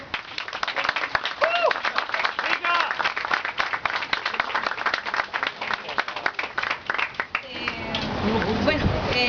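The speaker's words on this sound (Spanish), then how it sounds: "con ustedes, por favor, un aplauso." Audience applause at a book launch, a long stretch of dense, crackling clapping that carries on for several seconds before fading into a speaker's voice near the end.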